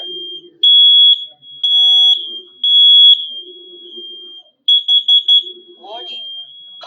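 A home smoke alarm under test emits loud, shrill beeps in bursts, first long tones and then a quick run of short ones. A synthetic voice announcement from the alarm is heard between them.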